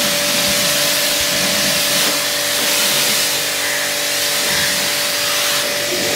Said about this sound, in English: तो पूरा कार को आप प्रेशर वॉशर से क्लीन कर ले.